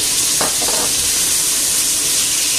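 Garlic frying loudly in a pan with pork and fried potatoes, a steady close hiss and sizzle with a few brief clicks of stirring near the start. No one speaks.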